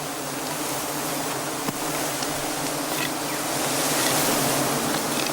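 Honeybees buzz in a steady, dense drone around an open hive as a brush sweeps them off the comb, the hum close and continuous with a faint rising swell toward the end.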